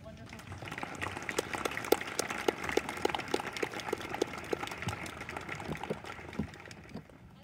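Audience applause for award winners at a fifth grade moving-up ceremony, a steady patter of many hands clapping with scattered louder claps, fairly close and continuous for several seconds.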